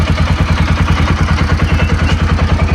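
A Bajaj Pulsar NS200 ABS motorcycle engine idles steadily with a low, even, throbbing pulse, close and fairly loud, with no voices.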